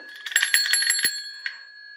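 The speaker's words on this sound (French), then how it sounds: "c'est une cloche, hein, enfin une sonnette" A small bell or bicycle-style ringer is struck repeatedly in a quick cluster of bright metallic rings, then one last ding that trails off, close and clear with no talk.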